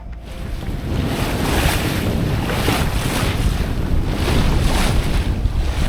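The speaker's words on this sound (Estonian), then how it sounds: "Mõne aja pärast tuul ikkagi tõuseb, kuid tuule suund jääb meil ikkagi täpselt vastu puhuma." Steady roar of wind and sea washing against a Maxi 77 sailing yacht beating upwind off Estonia's coast near Kuressaare, with loud continuous wind noise buffeting the microphone and rhythmic surges of waves throughout.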